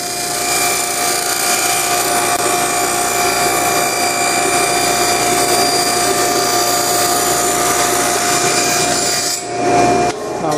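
A power tool cuts a 1/8 by 7/8 inch rabbet along wooden drawer stock for a Sheraton writing desk. It makes a steady, loud, continuous whine and rasp that holds for about nine seconds and then drops away with a few brief bumps.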